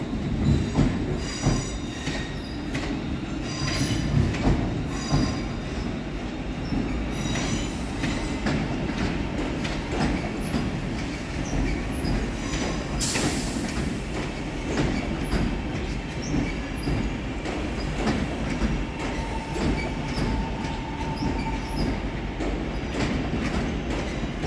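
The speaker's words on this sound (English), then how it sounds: "353, 210 and 323243 arrives, working the 1340 West Midlands Railway service to Wolverhampton" West Midlands Railway trains pull into Birmingham New Street station, a loud, continuous rumble of rolling stock with wheel clatter and repeated high metallic squeals from the wheels on the rails, and one sharp hiss partway through.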